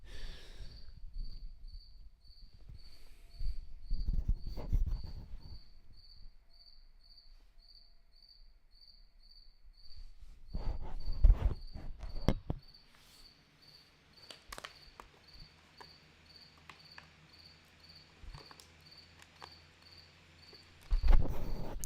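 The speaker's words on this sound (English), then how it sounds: "This cricket's been probably ruining my audio all night." A cricket chirps steadily through a quiet night, a faint high-pitched pulsing trill running continuously while occasional rustles, thumps and breaths sound nearby.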